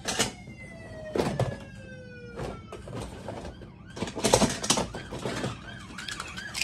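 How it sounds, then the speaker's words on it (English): A fire truck siren wails with slowly falling tones amid loud, chaotic street noise and bursts of commotion, the siren fading in and out. "That was a fire truck."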